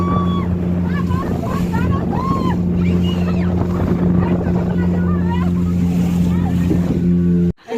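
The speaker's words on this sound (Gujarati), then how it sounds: "જો દરિયામાં આવી ગયા છે વચ્ચો વચ હુડકામાં બેઠા છે" A motorboat at sea near Dwarka hums steadily under wind and water noise, with family members chatting and calling out over the engine throughout.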